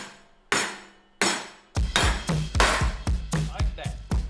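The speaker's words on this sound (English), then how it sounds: "Get you a solid surface, a block of wood, give it a little tap tap." Sharp hammer-like knocks as a D2 Racing coilover is tapped into the spindle of a Conquest TSI with a block of wood: two spaced strikes, then a quick run of close, loud taps.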